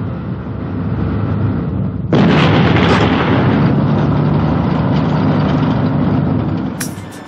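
A PT-76 amphibious tank gun fires once with a sudden loud blast, followed by a long rumbling roar that slowly fades.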